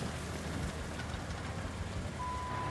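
Rain in the video game Roadcraft: a steady, even hiss of falling rain with a low rumbling undertone, constant and moderately quiet throughout, with no talk.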